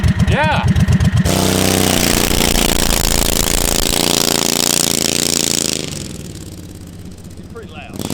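A King Midget microcar with a swapped engine starts with rapid sputtering bursts, then roars loud and steady while driving, easing off after a few seconds; people talk over the engine noise.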